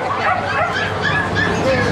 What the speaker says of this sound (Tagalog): Wow, aso.